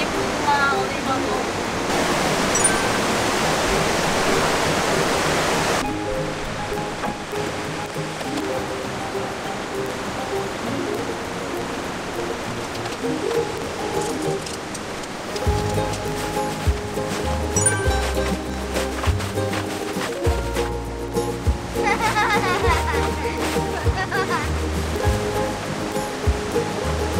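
Water rushes continuously through a mountain valley stream beside a campsite, making a broad, steady noise, and then a low bass hum joins in toward the end.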